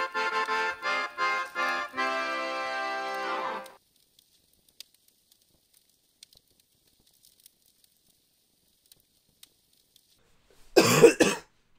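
A person with a lingering cough during a talk show lets out one harsh, loud, noisy cough near the end, after a few seconds of hoarse voiced vocal sound and a long, almost silent pause.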